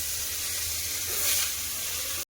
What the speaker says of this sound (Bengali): এই মাছগুলো এখন ভেজে নেবো